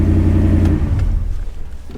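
Salvage-auction work truck's engine idling loud and close, a deep steady rumble that eases slightly toward the end, no talking.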